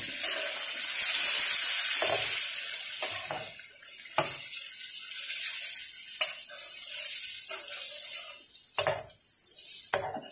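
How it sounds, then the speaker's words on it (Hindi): Tomatoes are stirred into a hotel-style chicken karahi as the pan sizzles steadily. A spoon scrapes and clacks against the metal now and then, close and loud, with no voices. "अब इसको अच्छी तरह मिक्स करना है टमाटर को"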